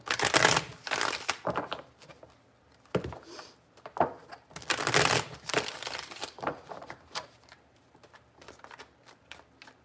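Tarot cards are shuffled in several quick, riffling bursts with short pauses between them, close and fairly quiet, with no talking.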